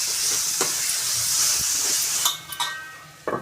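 Ground masala of coconut, ginger, garlic, cloves and cinnamon sizzles in hot oil for a spicy prawn curry, a loud steady hiss broken by scraping stirs and spatters.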